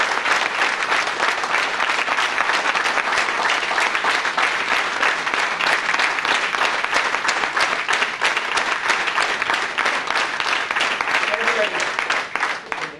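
Sustained, loud applause from an audience at a motivational speech, honoring a mother named Janak Ben; dense steady clapping fills the whole stretch, tapering slightly at the end.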